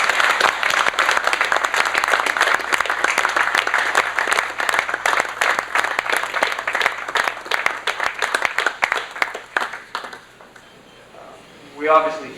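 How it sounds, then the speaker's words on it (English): A crowd gives a long round of applause for the visiting Arizona Coyotes hockey team at Ground Zero in 2001. The loud, sustained clapping thins out near the end, and a voice then starts speaking. "give you such a worthwhile round of applause."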